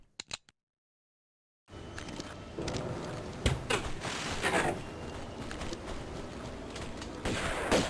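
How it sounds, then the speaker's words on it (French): Rifle gunfire in the video game Tomb Raider II, sharp shots cracking over a busy, continuous game soundscape of mechanical rattles and ambience, several reports scattered across the stretch after a short silent gap. "On a entendu un fusil."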